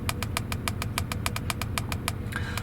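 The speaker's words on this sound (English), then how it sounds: "if I put my foot on the accelerator, just watch this fluctuate as the RPM needle goes up as well" A Land Rover engine runs close by with a steady rumble and a regular, rapid ticking over it. Any rise in revs under the accelerator is slight.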